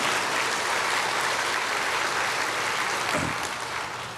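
A church congregation claps steadily through a sermon, a broad, even wash of applause from many hands that fades slightly near the end.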